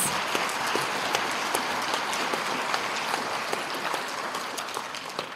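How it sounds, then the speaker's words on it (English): A crowd applauds steadily for several seconds at a junior high school awards night, dense overlapping claps filling the room at an even, sustained level. "let's have a round of applause for our students who have achieved honors in 4 classes."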